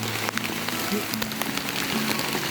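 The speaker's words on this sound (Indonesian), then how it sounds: "Hujan semakin deras." Heavy rain pours down on a trail on Mount Slamet, a dense, steady hiss of water with scattered sharper drop impacts, loud and close throughout, with no talking.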